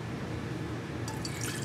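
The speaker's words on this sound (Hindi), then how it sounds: "उसमें डालना है पानी" Water is poured into a cooking pot to start a sugar syrup for a homemade sweet, giving a steady, close splashing hiss that brightens toward the end as the pot fills.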